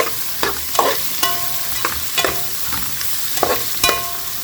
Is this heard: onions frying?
yes